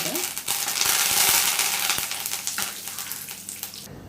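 Dried red chillies and curry leaves dropped into hot tempering oil for a kadi crackle and sizzle loudly and steadily, with a brief spluttering hiss, close up and alone.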